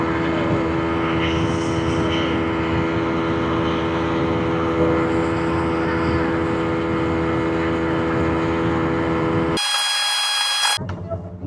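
Speedboat engine on the trip to Maheshkhali, a loud steady motor roar with a constant harmonic drone throughout, close and unbroken, cutting off abruptly near the end.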